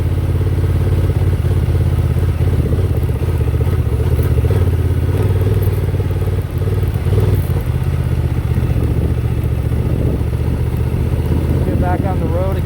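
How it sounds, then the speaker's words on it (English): Honda Transalp 750 motorcycle, a 2024 model, ridden off road in first gear with traction control on, its engine a steady loud drone with clattering and thumps over rough ground throughout. "It's a little bit jerky in first gear, but I'm gonna leave it in first because I get more traction in first."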